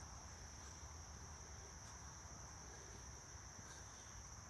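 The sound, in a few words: crickets chirping at night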